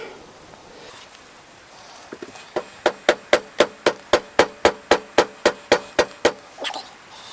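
A rubber hammer beats on the cylinder of a Kawasaki GTR1000 engine during top-end removal, roughly sixteen evenly spaced, solid thuds at a steady quick rhythm, close and clear over a quiet garage.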